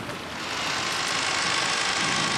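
Steady rain in the visual novel Umineko falls as a dense, even broadband hiss that holds for a couple of seconds without a break, loud and close, with no voices over it.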